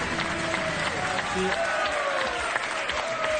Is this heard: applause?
yes